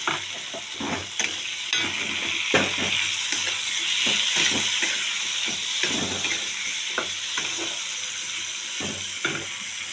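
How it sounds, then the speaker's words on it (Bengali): Mixed vegetables with turmeric and salt sizzle loudly in a pan, and repeated stirring scrapes and clatters at an uneven rhythm over a constant close frying hiss. "এটা একটু ভাজা ভাজা হবে।"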